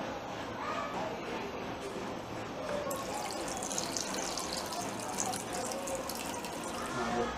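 Hot water from a kettle poured over clams in a bowl, a continuous splashing pour that grows brighter partway through, heard under someone talking.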